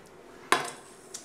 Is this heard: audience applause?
no